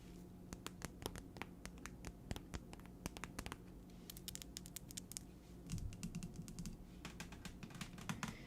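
Rapid fingernail-style tapping and clicking on a hard surface, ASMR style, in dense irregular bursts with sharp close taps throughout and a brief soft rustle near the middle; no voice.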